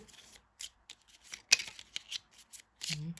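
Tarot cards being shuffled by hand, a series of short papery riffles and taps with small gaps between them, close and fairly quiet, with no talking.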